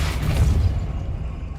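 A Depulso force spell fires in the video game Hogwarts Legacy, one loud, deep booming blast that rolls off and fades over about a second.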